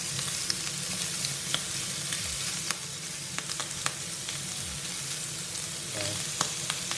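Bacon and onion frying in oil in a pan, a steady close crackling sizzle with scattered sharp pops throughout, no voices.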